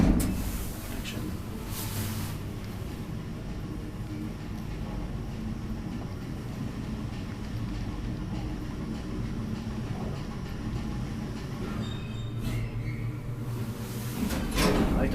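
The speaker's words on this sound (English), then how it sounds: "I like the braking sound." An old Otis traction elevator in a five-floor building in Järvenpää hums steadily through its ride, with a low rumbling, clunks near the start and a louder mechanical braking thump near the end; no talking.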